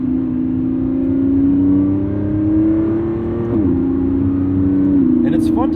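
A 2025 Lamborghini Revuelto V12 in sport mode drones steadily under acceleration, its pitch climbing slowly before dipping at a gear shift and carrying on, with talk over the engine throughout.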